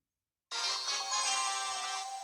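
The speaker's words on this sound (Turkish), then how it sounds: "Poco ne güzel şarkı çalıyor." Poco's song from the Brawl Stars video game, a bright, steady musical tone that starts abruptly and plays loud and continuous.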